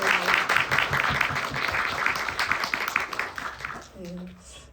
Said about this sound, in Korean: 박수를 한번 강렬하게 박수를 한번.